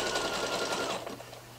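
Sewing machine stitching a sweatshirt, a fast steady whirring run up close that slows and fades to a lower hum near the end.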